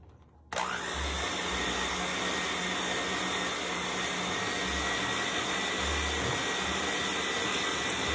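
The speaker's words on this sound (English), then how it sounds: "we're going to use our mixer and we're going to give this a mix until creamy" An electric hand mixer whirs without a break as it beats sweet potato casserole with softened cream cheese, butter and eggs until creamy. The motor is loud and close, and it starts suddenly after a moment of quiet.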